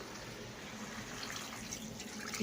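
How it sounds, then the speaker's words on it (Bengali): Water poured into a cooking pot during home cooking, a faint steady splashing trickle that carries on throughout, quiet and with no talking. "জল দিয়ে দিলাম"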